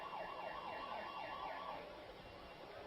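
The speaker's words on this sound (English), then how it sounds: "the siren goes off to signal that we're ready" A stadium siren at a high school football game at Roman Field wails in repeated rising and falling sweeps, steady and moderately distant, with no voices over it.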